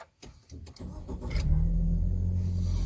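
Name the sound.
DFSK Glory 580 Pro SUV engine starting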